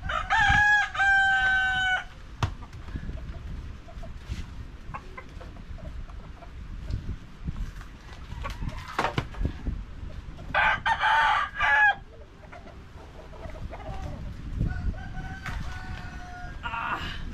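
Farm roosters crow in several loud, clear calls spread across the stretch, with hens clucking in between against a quiet outdoor background.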